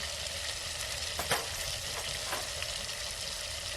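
Turmeric and coriander-cumin spice powder sizzling in oil for khichdi: a soft, continuous crackle with a couple of brief stirring scrapes, heard up close and without speech.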